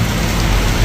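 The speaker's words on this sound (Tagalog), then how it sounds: "Wala na, ang lakas ng ulan, di ako makauwi." Heavy rain pouring during a Hong Kong black rainstorm, a dense, continuous roar of water hitting surfaces, loud and close without a break.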